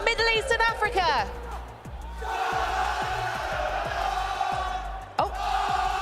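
Fans in the arena crowd at the Fortnite World Cup Duo Finals cheer and shout; a voice calls out briefly before a sustained roar with rhythmic claps or stomps sets in.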